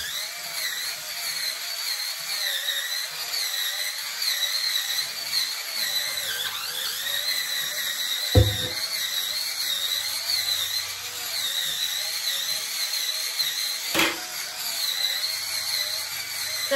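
Electric spin scrubber fitted with a hard wool brush head whirs steadily and close by, a continuous motorized hum with a couple of sharp knocks against the surface.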